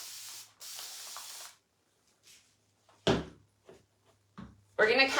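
Short hissing bursts of spray hitting a painted snowman porch sign, each burst close and loud with pauses and small clatters between them.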